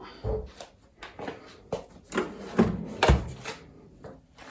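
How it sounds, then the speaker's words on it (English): A door is pushed shut in a home kitchen with a series of close wooden knocks, rubs and a final firmer thud, spread unevenly over a few seconds. "Let's get this door shut."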